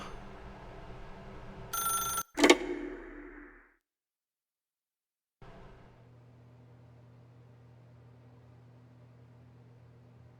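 A telephone rings in The Stanley Parable, with a couple of sharp, loud bell bursts, a short tail of hum, then silence and a low steady room drone.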